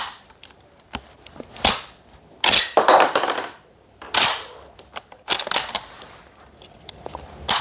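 A Type 38 rifle model gun fires caps: several sharp, loud close-up bangs at irregular intervals, mixed with clicks and mechanical clatter of loading and handling in between.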